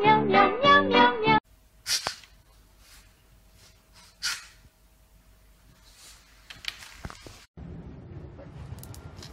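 A recently neutered house cat kept indoors lets out a loud run of several quick meows at the start, followed by soft shuffling and small handling noises at close range.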